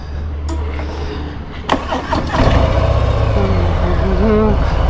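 A Harley-Davidson FXDR motorcycle cranks briefly and catches, its engine then settling into a loud, close, rumbling idle that continues to the end.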